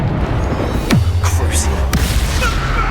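A Bombarda blasting spell explodes in Hogwarts Legacy with a deep, loud boom that drops into a long low rumble, followed by sharp cracking bursts, with speech over the top.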